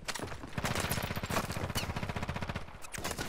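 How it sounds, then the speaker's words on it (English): Rapid automatic gunfire in a video game, a dense close burst of shots firing in quick succession for about two seconds, with a few scattered shots trailing off. "Taking effective fire."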